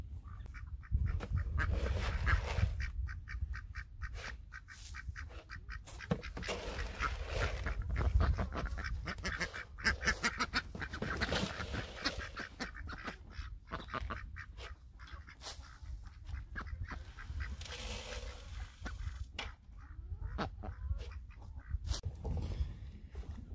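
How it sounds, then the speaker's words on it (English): Ducks quack and chatter continuously at close range around a temporary guinea fowl pen during a hot-weather feeding, with goose-like honks mixed in and steady activity throughout. "Let's get these ducks fed. They're talking to me."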